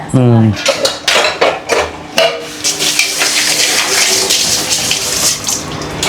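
Plates, pots and cutlery clatter and clink repeatedly in a busy run, with running water hissing in the background and a brief voice at the start.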